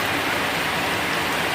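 Heavy rain pours down during a flood, a dense, unbroken hiss of water striking surfaces that stays steady and close throughout, with no voices.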